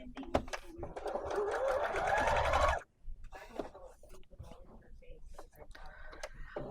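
Household sewing machine stitching in a fast whirring run, then stopping abruptly with the needle down, followed by soft clicks and handling sounds as someone talks nearby.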